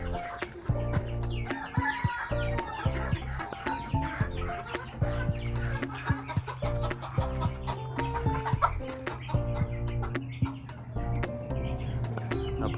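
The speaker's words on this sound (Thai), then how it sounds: "เพิ่นมักเลี้ยงไก่ตี" Fighting cocks kept on a farm property crow and cluck nearby, several birds calling in overlapping bursts with long crowing calls and short clucks throughout.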